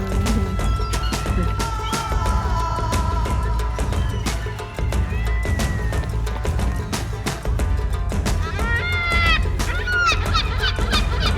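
A cat being fed at a camper in Essaouira, Morocco, meows repeatedly in short, fairly close cries over a busy background of clatter and voices.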